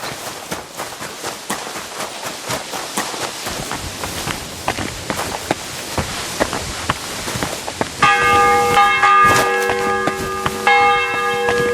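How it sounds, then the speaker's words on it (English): Running footsteps patter for several seconds in Kingdom Come Deliverance II. Then a church bell starts ringing loudly, with sustained, overlapping metallic tones that continue to the end. "The bell's ringing for Hans the 5th time."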